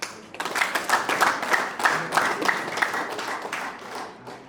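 Wedding guests at a celebration in Nyanza break into steady applause, dense rhythmic clapping sustained throughout at moderate loudness, with no voices standing out.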